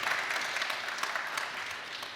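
Audience applause breaks out during a 2019 video game preview show, a dense, steady patter of many hands clapping at moderate distance for a couple of seconds, with no voices over it.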